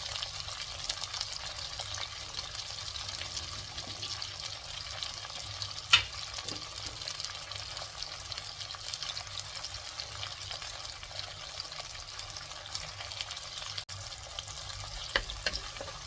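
Onions sautéing in a pan for chicken fry, a faint steady hiss and sizzle throughout with an occasional light clink, quiet and continuous, no talking.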